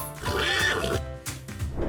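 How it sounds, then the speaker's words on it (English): A horse whinnies once in a long, wavering neigh that rises and falls over a soft background of children's show music. "Horse,"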